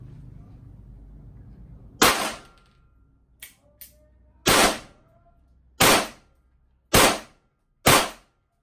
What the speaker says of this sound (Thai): หกนัดนะเดี๋ยวผมจะยิงดูนะครับ